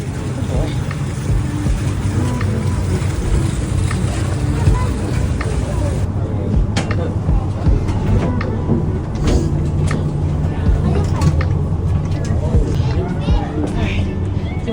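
Boat engines drone loudly and steadily from the back of a cruise ship near Icy Strait Point, Alaska, a constant low rumble with people talking over it.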